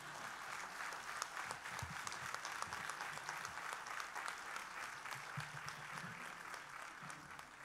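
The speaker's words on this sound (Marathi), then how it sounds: "जोरदार टाळी पडते रे पार्लेकरांची." Loud, sustained applause from a large audience at a concert event keeps going without a break, dense and continuous, with no speech over it.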